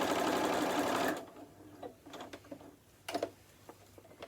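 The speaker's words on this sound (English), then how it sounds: "So we'll just sew a little further than where we started." Sewing machine stitching a star place mat, a loud close mechanical whirr that stops abruptly after about a second, followed by quieter clicks and handling taps.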